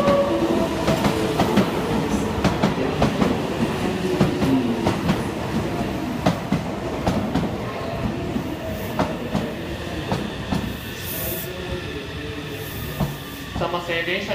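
A Meitetsu train pulls into a station platform, its rumbling wheels and clattering rail joints loud and steady, then easing off as it slows, with faint voices in the background.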